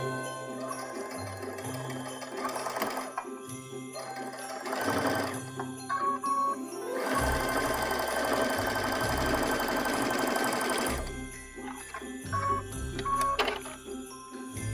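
A sewing machine stitches in the ditch along patchwork fabric for a stocking, running in steady whirring bursts with short pauses between passes, close and fairly loud, with no talking.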